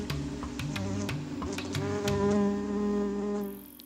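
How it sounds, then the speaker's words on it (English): A digger wasp buzzes close by, its wingbeat tone rising and falling in uneven bursts against a quiet outdoor background, with a few sharp ticks mixed in and no one speaking. "Another fiendish character also has a doomed sacrificial victim in its jaws: the digger wasp."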